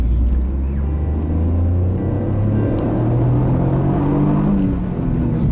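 A Toyota GR Yaris powering out of a hairpin, its engine a loud close rumbling drone that climbs steadily in pitch under acceleration, with a brief dip and shift near the end.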